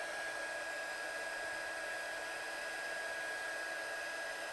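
A heat tool blows hot air over embossing powder on a stamped craft card, a steady, even, fan-like whoosh with a faint whine, continuous and close, with no talking.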